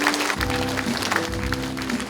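Applause from an audience at a community forum hall, a steady muffled crackle of many hands at moderate distance running under a low hum throughout.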